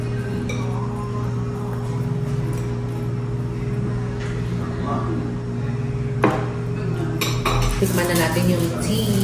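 Stirring tea in a cup at a café in Myeongdong, Seoul, with scattered clinks and scrapes of a utensil against the cup and dishes over steady background hum, quiet voices faintly present.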